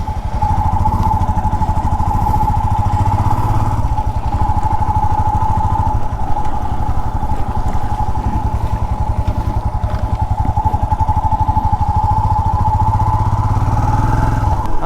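A freshly refuelled motorcycle engine runs close and loud, with a steady, even throbbing drone that holds unchanged for the whole stretch and no talking over it.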